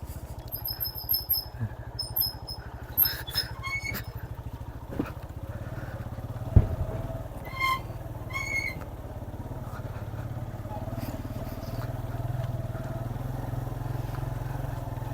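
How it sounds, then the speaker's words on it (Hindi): A motorcycle rides along a rough path in the Swat Valley near Jahanabad, its engine a steady low drone throughout, with scattered clatter and faint high chirps on top, and no voices. "और देखते हैं मोटरसाइकिल कहाँ तक जाता है।"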